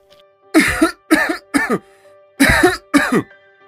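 Five heavy, rasping coughs come in two bursts, loud and close, with short pauses between them.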